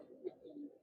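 Giribaz pigeons at a loft, their soft low cooing rising and falling in a close, continuous murmur, with a slightly stronger coo near the middle and no talking over it.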